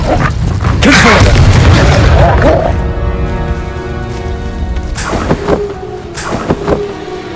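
A Confringo explosive spell from Hogwarts Legacy bursts loudly with a rumbling boom, then fades into a ringing tail with a few sharper impacts near the end.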